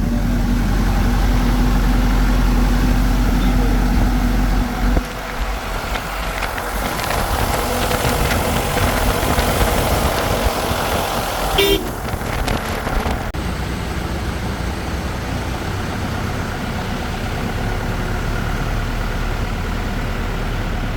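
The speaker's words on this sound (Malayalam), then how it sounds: "നമ്മളുള്ളത് ഈ ജീപ്പിലാണ് കേട്ടോ ഇത് വില്ലീസ് പഴയ ഓൾഡ് മോഡലാണ്" An old Willys jeep engine rumbles steadily and loudly close by, idling rough and low, with a brief rattle partway through.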